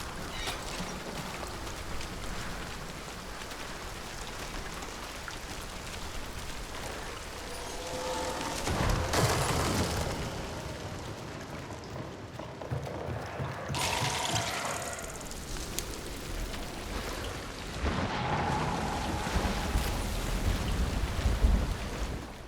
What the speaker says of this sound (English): I cannot recall any other game with rain that sounds this good.